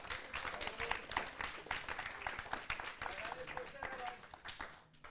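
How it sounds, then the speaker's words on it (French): Festival crowd applauding at the close of an event, with many hands clapping in a dense, steady patter throughout, loud and sustained before thinning out at the end. "donc il mérite aussi des applaudissements"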